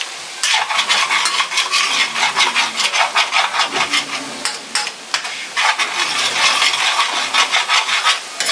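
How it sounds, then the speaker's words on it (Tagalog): A spoon scrapes and stirs garlic and onions in a pot, a close, busy rhythm of rasping strokes with a light sizzle underneath and brief pauses. "Halo-haluin lang."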